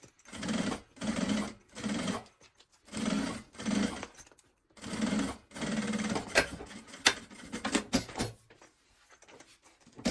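A sewing machine stitches fabric for a maternity bag, running in several loud bursts of steady whirring separated by short pauses, followed by scattered clicks and fabric handling toward the end.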